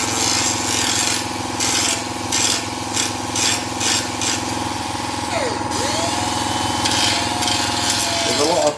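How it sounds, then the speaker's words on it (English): An angle grinder with a flat wheel works the front outer rocker panel of a Mercedes W109, giving a steady loud whine with pulsing back-and-forth passes and a rattling undertone. "I should be able to get to it with the flat wheel on the grinder"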